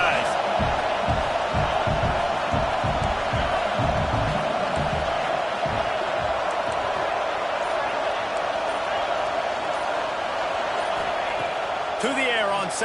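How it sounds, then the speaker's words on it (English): Stadium crowd at an NCAA college football game, a loud continuous roar filling the whole stretch with rhythmic thumping or clapping early on, as a commentator talks over it. "This crowd going to try to make life miserable for these guys."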